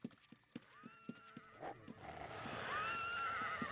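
A horse in the video game Ultima Online whinnies in a long rising-and-falling neigh toward the end. Hoof clip-clops tap steadily before it, fairly close.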